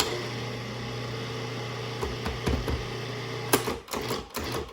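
A food processor runs with a steady motorized whir as it mixes flour and butter for banket dough, the blade churning evenly, then a few knocks and bumps as it slows and stops.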